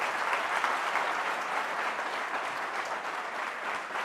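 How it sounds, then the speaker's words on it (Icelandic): Sustained, loud applause from an audience at an Icelandic gathering honouring a student's academic achievement, dense, even clapping that continues throughout with no voices on top. "svo við skulum bara klappa henni lof í lófa"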